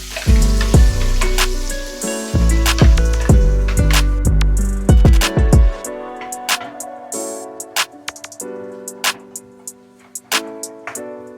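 Ground masala paste hits hot oil with frying garlic in a home kitchen preparing Agri-style prawn curry, bursting into a loud, close sizzle with repeated stirring clatters before settling into a steady hiss.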